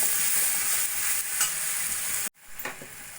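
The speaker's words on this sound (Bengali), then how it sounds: "ভালো করে ভাজা ভাজা করে নিয়েছি" Chopped ginger, garlic, Kashmiri chilli powder and coriander powder fry in a pan with a loud, steady hiss and stirring scrapes for tomato soup. The sizzle cuts out sharply for a moment, then returns in uneven bursts.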